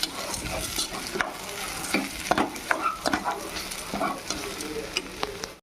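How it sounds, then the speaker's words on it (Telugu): A ladle stirs potato egg kurma in a pan just after chilli powder goes in, scraping in uneven strokes over a steady close sizzle of frying, with no talking. "ఒకసారి గరిటె పెట్టి తిప్పుకుందాం"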